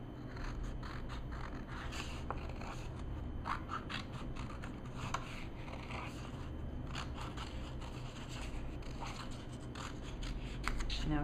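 Scissors cut out a paper pine tree shape at close range, giving a series of quiet, irregular snips and scraping paper rustles over a steady background hum.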